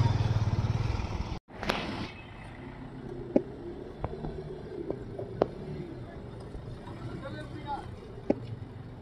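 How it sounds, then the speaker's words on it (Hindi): Motorcycle engine idling and revving in a traffic jam on a mountain road near a landslide, a steady rumble with a sharp cut-off early, then occasional clanks and distant traffic noise while someone talks over it. "बहुत ही मुश्किल है यहाँ से ये बाइक निकालना"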